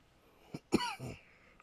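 A person gives a short, close cough into a microphone, with two or three quick throaty bursts that fade into quiet.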